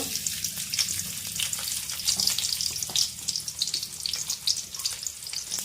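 Onions frying in hot oil for a pea and chickpea curry give a steady, close, crackling sizzle with dense spitting pops that carries on throughout, with no talking.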